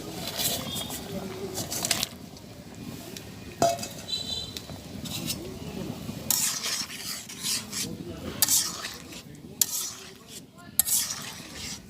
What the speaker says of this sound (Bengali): আমি এখন কই মাছটা দিয়ে দেবো তরকারিতে।